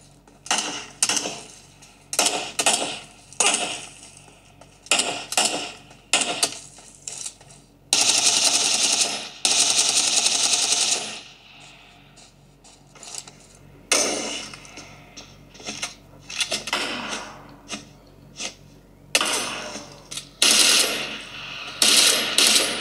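Game audio from a phone speaker plays a steady stream of clattering gunfire bursts, footsteps, metallic clicks and rattles, with a long sustained roar in the middle. Loud and busy throughout.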